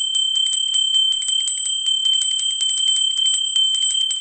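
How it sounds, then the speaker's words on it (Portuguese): A bright notification bell sound effect rings in a rapid run of repeated metallic chimes, loud and steady throughout with no voices. "Sininho tocou, é nova postagem"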